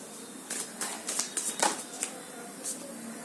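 Tarot cards drawn from a deck, a quick run of soft papery slides and flicks close up, then a single faint snap after a short pause.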